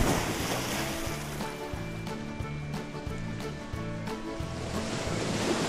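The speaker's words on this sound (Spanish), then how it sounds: "Se oye el sonido del mar en esta concha." Sea surf, the ocean sound heard in a seashell in a cartoon sea scene, forms a steady, unbroken wash of noise with a low, pulsing tonal hum beneath it throughout.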